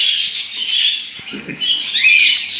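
Two young budgerigar chicks chirp continuously at close range, a shrill, unbroken stream of high twittering with brief dips.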